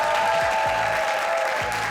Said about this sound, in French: Tozolo, on l'applaudit très fort